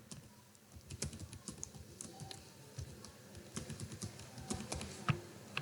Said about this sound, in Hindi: ये नंबर और ईमेल कॉपी पेस्ट नहीं हो सकता, ये आपको टाइप ही करने पड़ते हैं।